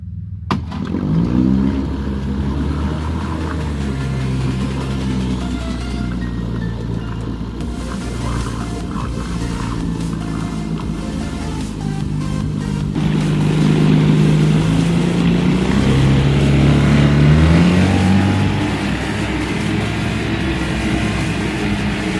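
A 1963 3 HP Evinrude outboard boat motor sputters to life and keeps running with a steady low drone, revving louder for a stretch before settling back.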